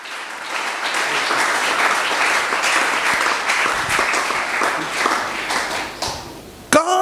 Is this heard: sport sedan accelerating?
no